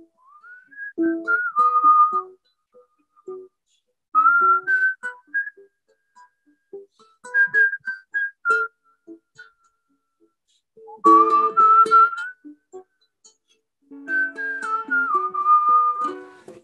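A person whistles a melodic tune in several separate phrases with pauses between them, clear and close, with no talking.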